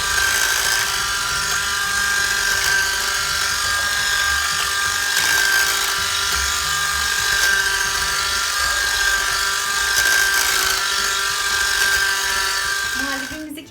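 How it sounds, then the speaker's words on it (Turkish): An electric mixer whisks banana magnolia pudding, making a loud, steady, whining drone that holds unchanged for the whole stretch and cuts off at the very end. "yaklaşık 3 dakika çırpıyoruz."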